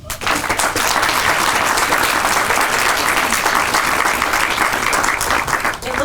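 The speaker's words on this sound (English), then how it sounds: "I want to give a special round of applause for Eli and Kalani for their" Steady, dense applause from an audience at an elementary school ribbon-cutting ceremony for two students' speeches, loud and sustained throughout with no pause.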